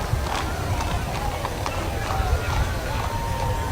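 Horses parade along a street in a historic procession, their hooves clip-clopping in a steady rhythm alongside crowd noise and a talking voice.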